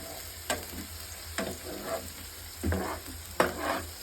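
Chicken frying in a pan is stirred in a few distinct scraping strokes, each followed by a short burst of sizzle, over a steady low crackle and hiss, close by with no voices.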